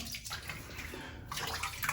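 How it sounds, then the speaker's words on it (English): Water splashes and trickles softly in short irregular bursts as it is applied to the face during a safety razor shave, close and quiet with no talking. "Just applied some more water, and I'm going to do the cross grain pass in this direction now."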